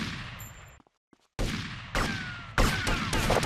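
Gunfire in GTA Vice City comes as a loud burst, then a short silence, followed by three sharp, heavy gunshot blasts, each with a sustained ringing tail, no talk.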